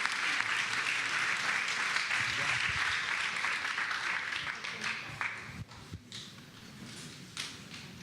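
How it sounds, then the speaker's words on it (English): A crowd at a congressional campaign kickoff gives a round of applause, full and sustained at first, then thinning and fading over the last few seconds. "let's give him one more round of applause to our 41st Lieutenant Governor"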